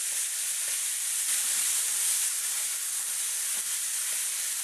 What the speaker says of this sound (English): Let the vegetables cook with the spices for approximately 30 seconds to a minute